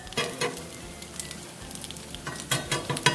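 An omelet fries in a seasoned cast iron skillet, giving a steady close sizzle with scattered spatula scrapes and taps, with no talking.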